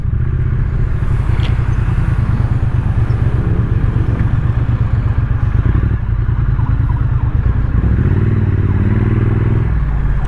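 A Triumph Street Twin motorcycle engine is ridden through slow city traffic. A close, loud, steady low throbbing exhaust note rises into a deeper rev near the end, with faint surrounding traffic noise.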